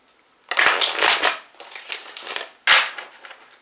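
Tarot cards are shuffled up close in two or three crisp riffling bursts, papery and sharp, with short pauses between them.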